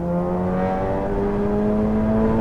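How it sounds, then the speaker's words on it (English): Simulated VW Golf 8 R with an Akrapovic exhaust in Assetto Corsa EVO, a loud, steady engine drone rising slowly in pitch under throttle, with no talk. "This sounds quite modified for the Golf. I mean, I know it had a Krapovich's exhaust."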